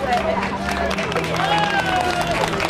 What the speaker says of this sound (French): on les salue par des applaudissements